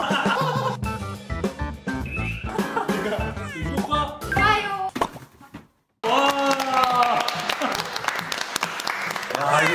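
A studio audience claps to welcome Hot Toys figure artists as guests, loud, sustained applause mixed with music, laughter and voices, broken by a brief silence before the clapping resumes.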